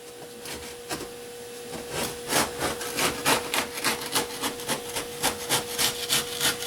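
Close, small plastic scraping and clicking as an N scale Kato Unitrack piece is pried loose, a run of quick rhythmic rubbing strokes that grows busier over a faint steady hum, without talking.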